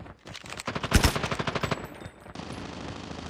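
A PP19 Bizon submachine gun fires in a video game capture-the-flag match as one loud, rapid automatic burst of closely spaced shots, then cuts off abruptly.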